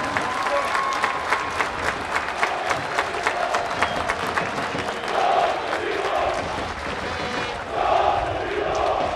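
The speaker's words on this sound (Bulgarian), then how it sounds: "Дами и господа, вашите аплодисменти за тези момчета." Loud, continuous crowd applause at a 2011 benefit event honoring footballer Kostadin Vidolov with Botev veterans, sustained clapping across the whole stretch with occasional swells of cheering.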